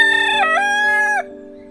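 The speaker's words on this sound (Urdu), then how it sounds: "مرغ کی بانگ" A rooster crows once, a clear, close call with a wavering middle that cuts off abruptly, over a soft musical drone.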